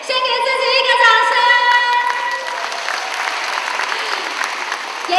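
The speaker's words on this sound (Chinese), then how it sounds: "先给自己一个掌声，" A church congregation at a Christmas thanksgiving service applauds, a dense sustained clapping from many hands that fades gradually, with organ or keyboard tones ringing under it at the start.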